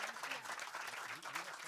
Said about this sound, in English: I really want to hear a loud applause for you guys as well.